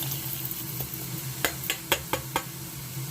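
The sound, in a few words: onions frying in oil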